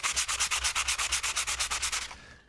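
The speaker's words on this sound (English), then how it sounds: "I was just using this sandpaper, I would sand like this" Hand sanding of a wooden board with sandpaper: about sixteen quick, even back-and-forth rasping strokes in a steady rhythm, close and loud, which stop abruptly near the end with no talking.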